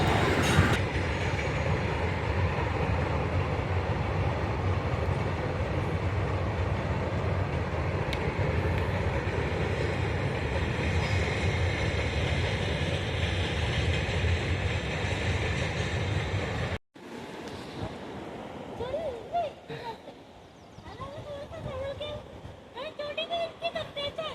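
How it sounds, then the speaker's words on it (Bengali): A goods train rumbles past near Sevoke, a long, loud, steady roar of freight wagons with rhythmic wheel clatter that cuts off abruptly, leaving quieter ambience and a voice speaking. "এই দেখো ট্রেন যাচ্ছে,"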